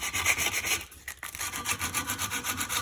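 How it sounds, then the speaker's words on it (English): Someone scuffs the surface of a 1958 Johnson 18 hp outboard motor with 80 grit sandpaper in quick rhythmic strokes, pausing briefly before the close rubbing rasp starts again. "he said a pro tip is you want to scuff up these surfaces a little bit"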